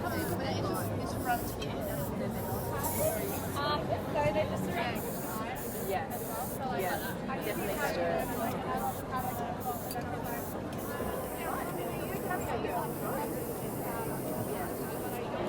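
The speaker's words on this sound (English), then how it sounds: "everything with airbrushing, it's all about the angle that you're holding your brush" An airbrush sprays Ben Nye makeup onto a face for a marionette look, giving a steady, soft hiss that runs throughout beneath a person talking close by.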